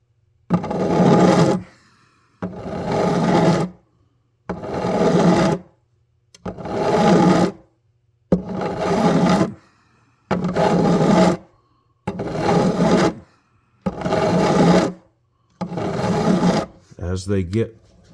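Fret file rasping across new frets on a Yamaha FG410a acoustic guitar during a fret dressing: nine steady back-and-forth strokes of about a second each, close and fairly loud, separated by short pauses, with no talking.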